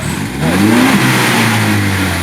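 A nearby Ford Bronco engine with an aftermarket MagnaFlow exhaust revs up once with a deep, throaty exhaust note, then settles into a steady rumbling idle.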